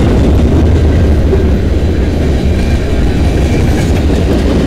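Freight train M397, led by a Norfolk Southern unit, rolls past at close range in London, Ontario, a heavy, steady rumble with clickety-clack of wheels over rail joints and no talk.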